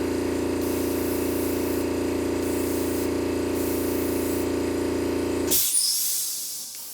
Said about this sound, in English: lightly just spray over it